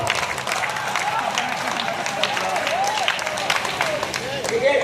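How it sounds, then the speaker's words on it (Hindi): An audience at a Hindi poetry gathering in Allapur, Prayagraj, breaks into sustained crowd clapping, a dense patter of many hands under someone speaking loudly over it. "ताली बजाइए"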